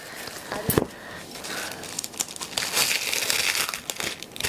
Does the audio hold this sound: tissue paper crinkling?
yes